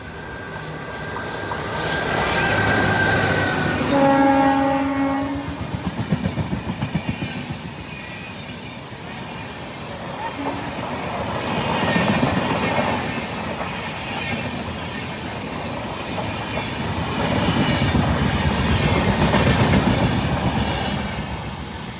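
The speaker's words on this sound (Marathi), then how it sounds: "आत्ता जी गेलेली ट्रेन आहे ही प्रगती एक्सप्रेस पुणे होती" The Pragati Express to Pune passing on a railway track, a loud, continuous rumble of wheels and carriages with squealing and rhythmic clatter, close by and without talk.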